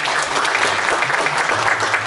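A crowd applauds at a high school senior graduation ceremony in Chile, a dense, continuous wash of clapping with no break.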